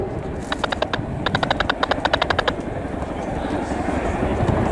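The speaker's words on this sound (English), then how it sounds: "The Chinook has been continuously used by the Air Force as a battlefield helicopter for over 40 years" A Chinook helicopter's rotors beat in a fast run of sharp, evenly spaced thuds over a constant engine roar, close and loud, at the Royal International Air Tattoo 2022.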